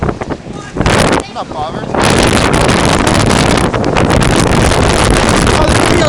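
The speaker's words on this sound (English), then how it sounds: "the wind just totally blew you" Strong wind blows during a hailstorm and buffets the microphone in a loud, roaring rush that swells and stays constant, with someone speaking briefly at the start.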